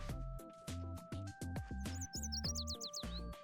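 Bright, rapid bird chirps and tweets in a video game scene, a lively run of short calls and warbling trills, close and clear with no talk.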